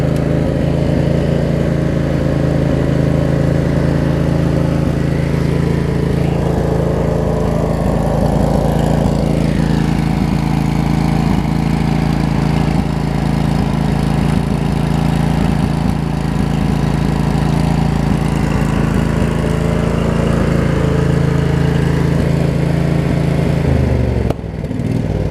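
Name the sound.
Craftsman Briggs V-twin mower engine idling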